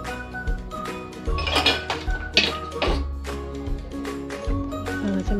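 A lid is set over a pot of suji halwa slow-cooking on a low flame, making clinking metal-on-metal knocks and rattles over a steady sizzle and kitchen clatter.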